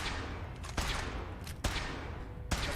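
Gunfire in the video game Fallout 4, heard as three separate sharp shots spaced roughly a second apart over a constant dense rumble of background noise.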